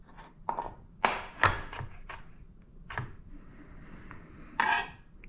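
A knife chopping ingredients into smaller pieces on a board for mac sauce in a home kitchen, several distinct knocks and clinks at an irregular pace, close and fairly quiet with no talk.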